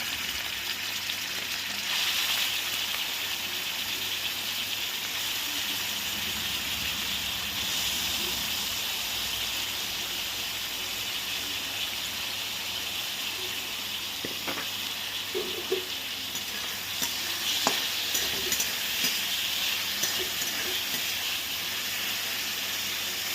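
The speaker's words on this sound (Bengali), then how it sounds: "সয়া সস দিয়ে তো সেটা আমি এবারে এর মধ্যে দিয়ে হালকা করে ভেজে নেব" Soy-sauce-marinated chicken fries lightly in a pan for fried rice, giving a steady, close sizzle and hiss that runs unbroken throughout with occasional faint clinks and no speech.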